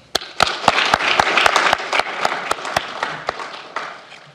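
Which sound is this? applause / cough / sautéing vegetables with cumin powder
applause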